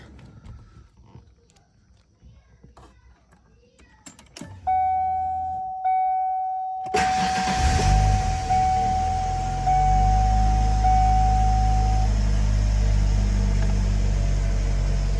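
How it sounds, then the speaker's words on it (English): A Foxbody Mustang with the 2.3L four-cylinder, just after a valve cover gasket replacement, sounds a brief electronic chime, then cranks and catches into a loud, steady, rumbling idle that runs close by to the end. "So just going to start it up and make sure I don't see any leaks."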